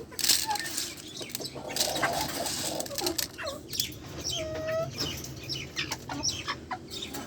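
Chickens peck at scattered rice on a farm, with repeated clucks and short calls scattered across steady background noise, some wing flaps, and one clear rooster-like note partway through.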